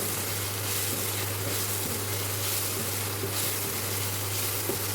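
Spices frying and sizzling in a kadai as a steady, even hiss of hot oil throughout, close and continuous with faint stirring and no talk.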